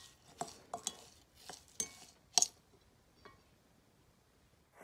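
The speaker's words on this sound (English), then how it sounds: "Now I'm going to add 2 tablespoons of melted butter. And stir that up to combine it to make my streusel toppings." Scraping and clinking of a utensil in a bowl as melted butter is stirred into streusel topping for apple pie muffins, a few soft irregular taps, close and quiet.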